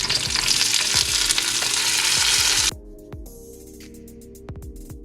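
Chili pepper, cooked corn and beans sizzle loudly in a hot pan with stirring clatter, then the frying drops sharply to a quieter simmer with occasional spoon scrapes and clinks.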